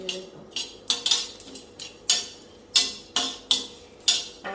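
Cumin seeds roasting in a pan for cumin powder, heard as a run of bright, crisp rattling scrapes roughly every half second, like seeds being stirred against metal, close and moderately loud with no talking.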